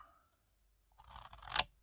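Paper for a scrapbooking shaker box is cut straight with scissors. Silence gives way to a rising run of crisp, close cutting noise that ends in one sharp, loud snip.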